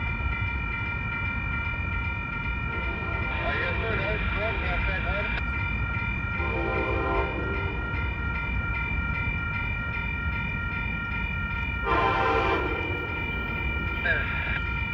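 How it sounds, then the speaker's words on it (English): An Amtrak Capitol Corridor passenger train rumbles steadily past the Santa Clara Great America crossing in California with a continuous rolling roar, while a few short, bright horn-like tones sound intermittently over it. "Alright folks, comes Capital Corridor train"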